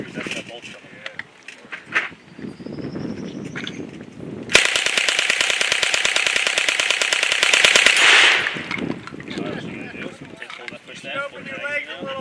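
An automatic gun at a shooting range fires one long, rapid burst of evenly spaced shots lasting several seconds, loud and close, with people talking before and after.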